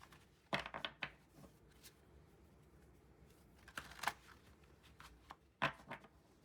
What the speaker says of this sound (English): Wants another good shuffle. That's not a good shuffle.